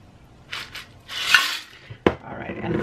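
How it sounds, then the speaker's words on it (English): Shaken cocktail poured from a shaker into a small glass, with a soft liquid pour and a sharp clink of ice or metal against the glass, close and fairly quiet. "Pour it into my little glass here."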